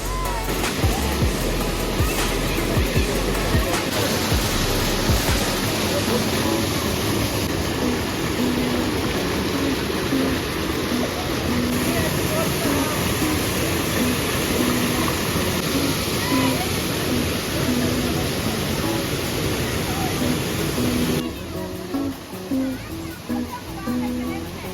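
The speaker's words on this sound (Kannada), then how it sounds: "ಇಲ್ಲಿ ನೋಡಿ ನೀರು ಎಷ್ಟು ಚೆನ್ನಾಗಿ ಫ್ಲೋ ಆಗ್ತಾ ಹೋಗ್ತಾ ಇದೆ" Stream water flowing steadily at Kallathigiri, a broad continuous rush close by throughout, with a voice and other people talking over it.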